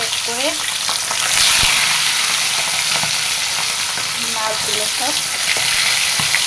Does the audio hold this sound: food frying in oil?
yes